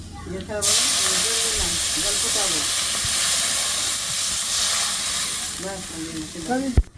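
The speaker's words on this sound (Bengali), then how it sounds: "জলটা ফুটে গেছে" Water boils in a pan over red-fried spices for a mustard rohu fish curry, a loud, steady close hiss and bubbling that runs throughout while a person talks over it.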